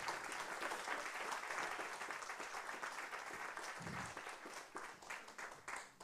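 An audience applauds a live drawing performance with dense, sustained clapping at moderate distance, steady throughout and without talk.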